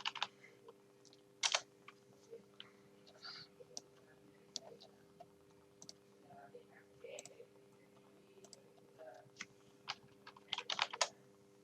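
Keystrokes on a computer keyboard while drafting in AutoCAD, with scattered clicks and a few rapid bursts of keypresses, including Enter and spacebar taps, over a quiet steady hum; the typing is fairly faint and close.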